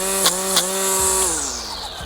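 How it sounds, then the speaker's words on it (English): A Ryobi 40V HP attachment-capable 17-inch string trimmer runs in max performance mode while cutting grass, giving a close, loud, steady high whine with small pitch shifts as the line hits the grass. "As I'm running this trimmer, I'm noticing that no issues keeping up with any of the grass that we're trimming around here"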